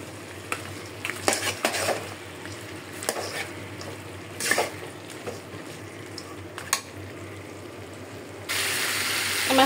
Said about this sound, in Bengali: আমার হাঁসের মাংসটা পুরোপুরি ভাজা হয়ে গেছে।